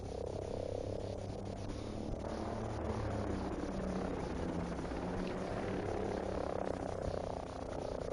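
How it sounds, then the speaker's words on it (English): An enemy helicopter in Ghost Recon Breakpoint drones and chops steadily and loudly throughout, a dense continuous rotor roar with no talk. "Enemy helicopter."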